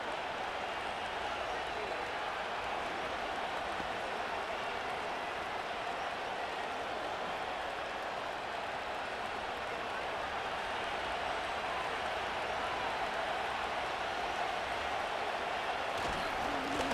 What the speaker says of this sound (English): And they're going to hear it from this crowd.